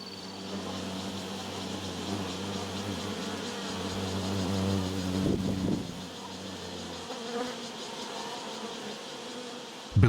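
Hornets buzz close by with a continuous droning hum whose pitch shifts as they move, with a brief louder swell near the middle.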